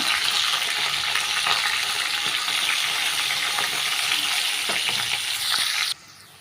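Dried chillies, curry leaves and asafoetida frying in hot oil for coconut milk rasam, a loud continuous close crackle and sizzle with a few stirring clinks, cutting off abruptly near the end.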